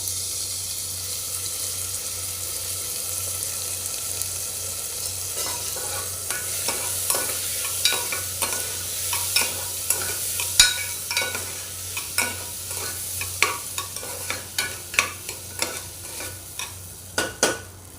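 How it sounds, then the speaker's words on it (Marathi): Washed, drained rice stir-fried in ghee for coconut jaggery rice, a steady sizzle with a run of sharp spoon scrapes and clinks against the pan growing more frequent in the second half, close and alone. "ते आपण आता चांगले तुपामध्ये परतून घेऊया एक दोन मिनटं"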